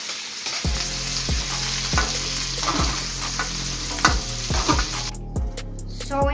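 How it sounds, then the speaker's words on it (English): Shrimp with garlic fry in a wok, a continuous bright sizzle broken by regular scraping strokes of a spatula roughly every half second, with the noise thinning out near the end. "So after 3 minutes, you have to take off the shrimp."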